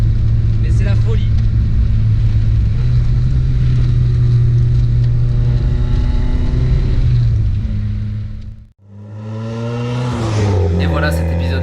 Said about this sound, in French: ce qui fait vraiment la différence, c'est vraiment le bruit et l'échappement qui nous procurent un kiff